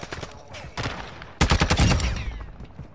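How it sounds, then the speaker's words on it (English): Gunfire in the shooter Warzone DMZ, a few scattered sharp shots followed by a loud, violent burst of rapid fire that rings out and decays. "The shot felt so violent, man."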